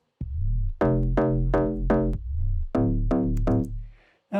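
Unprocessed bass sample from a Battery drum kit, likely a Vengeance library sound: a deep, punchy pitched bass note repeated in a rhythmic pattern, loud and dry with short gaps between hits.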